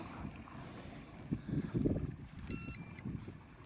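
A remote-controlled Hydra bait boat sets off on autopilot across a fishing pond, giving a faint low motor hum and water noise, with a short series of electronic beeps near the end.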